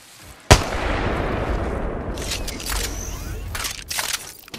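Gunfire in the Apex Legends video game: a sharp loud shot bursts in, followed by a dense stretch of continuous shooting and explosive noise with scattered sharper cracks, while a voice speaks over it.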